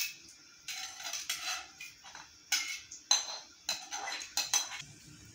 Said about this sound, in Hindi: चावलों को हमने डालने के बाद हल्के हाथ से इसको चम्मच चलाना है।